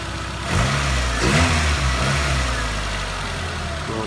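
A car engine warms up while being checked for a stalling problem. It runs close and steady at idle, with a brief rev swell early on before settling back to an even hum.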